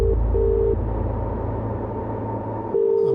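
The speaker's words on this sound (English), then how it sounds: "So I'm going to punch this number in now. My phone is in private. I'm dialing the number." A phone line carries a steady low hum broken by repeated flat electronic tones, a short pair of beeps at the start and another tone near the end, quiet and alone with no voices.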